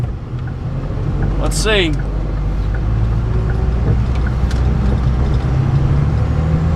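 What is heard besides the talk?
Cummins-powered Ford F350 truck driving on highway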